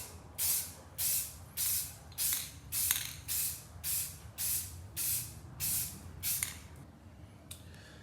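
A spray can hisses out a second coat of paint onto a furniture leg in about a dozen evenly spaced short bursts, close and fairly quiet, with no talking.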